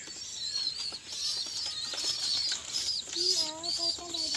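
A domestic pigeon flaps its wings in short, soft bursts as it comes to hand during training in Bangladesh, with high chirping birds close by throughout and a lower cooing-like call near the end.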